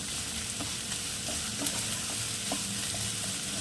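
Frying in a pan until light brown for a Bengali prawn and pointed gourd dish, an even close sizzle with light stirring scrapes, no speech.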